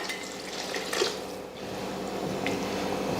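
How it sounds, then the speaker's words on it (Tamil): Water trickles and splashes steadily into a pot of curry, a soft continuous pour with faint kitchen clatter, no talking. "கொஞ்சமாக குழம்புக்கு தேவையாக தண்ணி சேர்த்துக்கலாம்"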